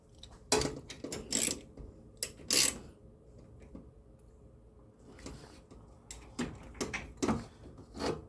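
A ratchet socket wrench works on a 2009 Nissan Maxima in quiet bursts of quick clicking, with pauses between the strokes, close but faint.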